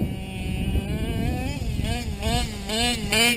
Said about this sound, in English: this engine's nasty